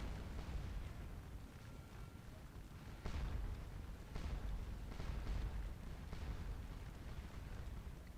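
Artillery fire rumbles across a Napoleonic Waterloo battlefield in a strategy game, with several booming bursts around the middle and a dense, continuous low roar of distant guns.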